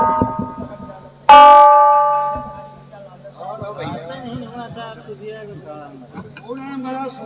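A bell is struck once loudly and rings with a long, slowly fading metallic tone, followed by people talking over a noisy background.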